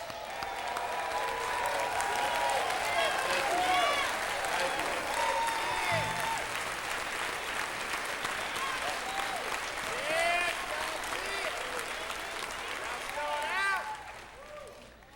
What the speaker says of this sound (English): Let's stand on our feet and give our choir a round of applause.